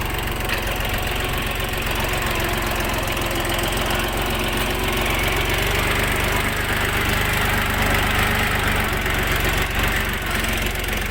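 The small diesel engine of a Jinma 244 mini tractor idles steadily with a knocking, rattling chug, close and continuous throughout.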